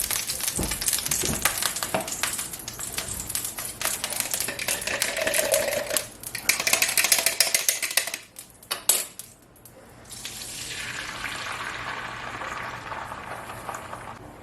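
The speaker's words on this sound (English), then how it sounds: "Oh yeah, we got a sizzle going." Busy crackling and clattering of beef in a hot frying pan, with dense sizzle-like noise and metal utensil clinks, louder at first, then a steadier hiss after a brief lull.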